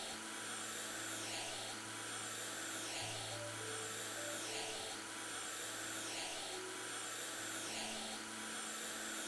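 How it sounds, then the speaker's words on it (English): A vacuum-cleaner-like cleaning tool in a video game makes a loud, steady whirring drone with a broad hiss, holding on without a break and shifting slightly in pitch now and then. "I don't know why it's making such a racket. Is it like a vacuum cleaner or something?"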